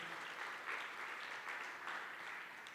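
A church congregation applauds together during a New Year's Eve sermon, a dense, even wash of clapping from many hands that holds steady for a few seconds at a moderate distance, with no voices over it.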